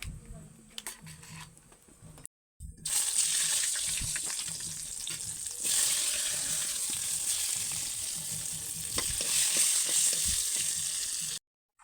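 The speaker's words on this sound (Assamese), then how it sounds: "ইয়াত বেঙেনাকে ফ্ৰাই কৰিম" Brinjal (eggplant) fries in a wok over a fire with a loud, continuous sizzle and hiss after a brief quiet start, broken by a short gap and some stirring clatter.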